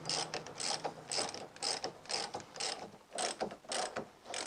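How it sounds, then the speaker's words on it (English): A hand ratchet clicks steadily in quick bursts while tightening the front radius rod nut on a VZ Commodore, a close, quiet run of mechanical clicks with brief pauses between strokes. "Then we tighten up our front radius rod nut."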